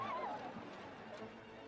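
A horse whinnies briefly and audibly at the start, then gives way to a low, steady rumble of outdoor ambience with possible soft hoof movement. No talk is heard.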